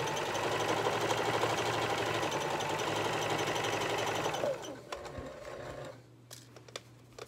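A home sewing machine stitching a fabric bowl cozy hums with a steady fast rattle of the needle, loud and close, then slows and stops partway through, leaving faint clicks and handling noises.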